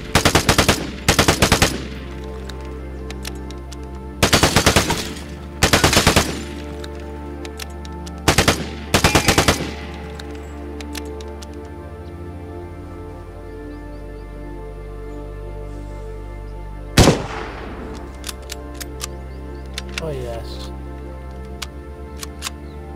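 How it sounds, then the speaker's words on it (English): M16 rifle fire in the online shooter Vigor, several sharp loud bursts in the first ten seconds, then a single later shot and faint clicks over a steady background hum. "Let's reload the M16."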